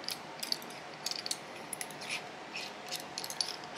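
A spark plug from a racing ignition kit is screwed in by hand, giving faint, close clicks and light metallic ticks at an irregular pace.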